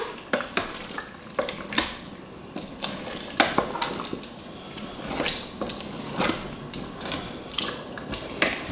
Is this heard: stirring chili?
yes